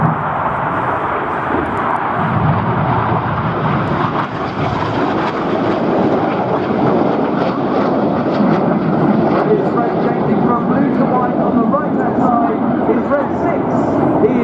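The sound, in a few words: Red Arrows jet aircraft fanning out in a break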